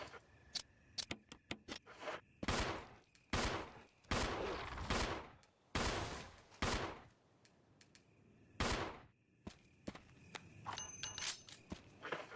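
Pistol shots ring out one after another in Resident Evil HD Remaster, a dozen or so sharp, loud reports at uneven intervals with a few quieter clicks and steps between them.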